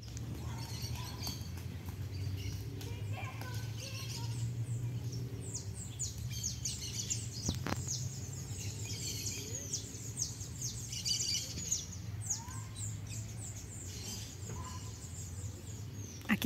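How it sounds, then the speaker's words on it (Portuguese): Maritaca parrots and parakeets call from dense trees near a small beach, a steady scatter of high chirps and tweets over a constant low background rumble, moderately distant with no voices. "Aqui tem tanta árvore, tanta árvore. Tá cheio de maritaca e periquitos."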